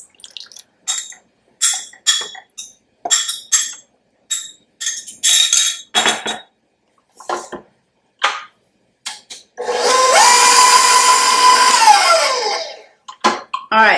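Beaten eggs are mixed into a gluten-free lemon ricotta cake batter: scattered bowl clinks and taps first, then an electric mixer whirs steadily for about three seconds with a rising and falling pitch. No one speaks.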